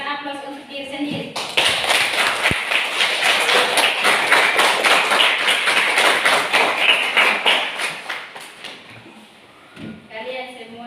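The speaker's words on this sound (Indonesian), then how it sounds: "Sekali lagi berikan aplaus untuk diri sendiri" Students in a classroom clap for themselves in a long burst of dense applause lasting several seconds, bracketed by a teacher's voice before and after.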